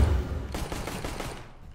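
Rapid automatic gunfire in the video game CS:GO, a dense burst of shots that starts at once and fades within about two seconds.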